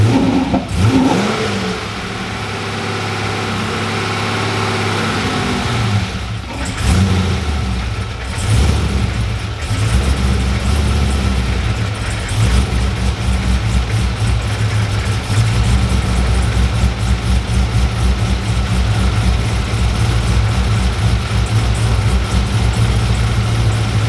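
A freshly rebuilt car engine cranks and fires, then settles into a steady, loud idle with a few revs near the start, the rumble continuous and close for the whole stretch.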